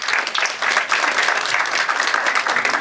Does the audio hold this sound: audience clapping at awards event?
yes